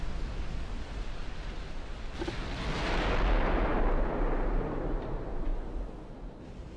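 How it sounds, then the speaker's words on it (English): A torpedo hit in the naval battle game Ultimate Admiral: Dreadnoughts lands as a broad, rumbling explosion that swells and then slowly fades into a sustained roar. "Here's a torpedo hit."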